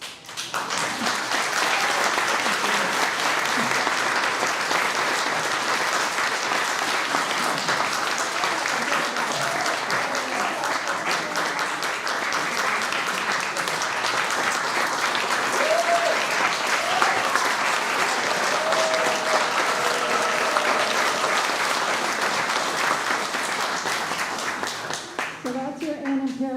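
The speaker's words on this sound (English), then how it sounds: "A big round of applause." A room full of people gives a long, steady round of applause at a women's council gathering, dense clapping sustained throughout with a few faint voices near the end.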